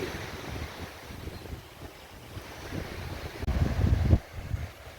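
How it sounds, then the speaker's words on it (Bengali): Ocean waves wash in a steady, rushing roar mixed with wind noise at a beach near Kolkata, swelling louder toward the end; no one speaks. "এই হচ্ছে সমুদ্র"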